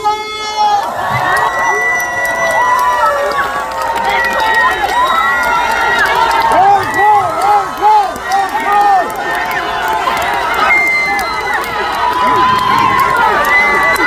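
A festival concert crowd claps and cheers outdoors, with shouts and whoops rising over steady applause and music-like tones running throughout.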